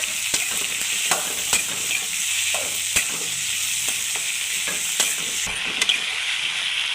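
Tomatoes sauté in a pan for a country chicken gravy, a steady sizzle broken by regular sharp taps and scrapes of a spoon stirring, close and without talk.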